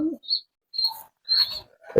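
Domestic pigeons kept by a hobby breeder give several short calls and coos in separate bursts, close and fairly clear, with no talking.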